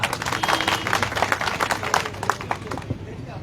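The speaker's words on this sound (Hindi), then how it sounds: "हमारे भाई जिला अध्यक्ष हमारे बीच पधारे हुए हैं, इनके लिए जोरदार तालियां" A crowd at a Sindhi community gathering, held for the unveiling of a chowk, bursts into a short run of loud, dense clapping for the district president, fading toward the end.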